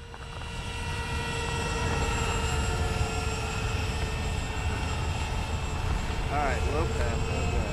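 An RC electric ducted-fan model of an Airbus A380 flies on its maiden flight, its steady whining turbine drone holding through the clip while people talk nearby.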